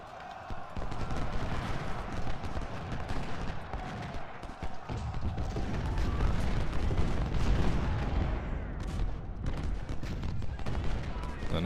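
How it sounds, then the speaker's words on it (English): Canister artillery fires in the Ultimate General: Civil War video game, a dense, continuous roar of booming volleys and crackling gunfire across a Civil War battlefield, rumbling loudly without a pause. "Canister fire in the flank."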